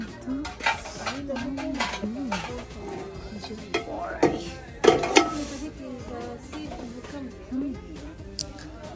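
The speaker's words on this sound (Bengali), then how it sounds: "সিলভারের অনেক হাঁড়ি পাতিল আছে, পেয়ে গেছি আমার পছন্দের মতো।" Silver-coloured steel cooking pots, pans and a wok are handled on shop shelves, giving scattered metallic clanks and taps of varying loudness, with people talking nearby.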